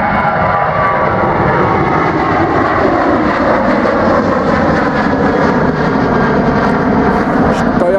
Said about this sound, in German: Und dann noch diese Flugzeuge zwischendurch.